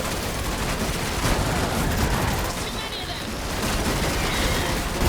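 Dense, continuous automatic gunfire from The Matrix Awakens on PS5 roars without pause, loud and close, with excited voices talking over the shooting.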